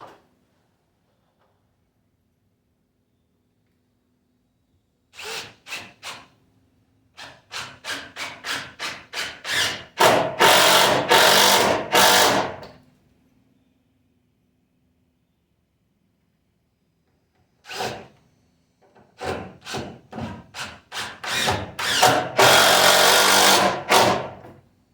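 Power drill driving screws into a wood block during a shop roof repair: short bursts of whirring and grinding, a few brief pulses, then two longer drives, a pause, and another series of pulses ending in a sustained run.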